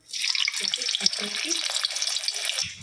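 Hot oil sizzles and crackles steadily in a pan at a home kitchen, a close hissing frying sound with small pops throughout.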